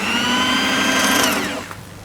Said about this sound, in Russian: И потом хорошо заточенное сверло